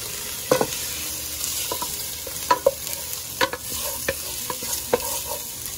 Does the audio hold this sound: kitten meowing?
no